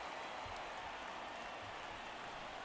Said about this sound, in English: That fires up the home crowd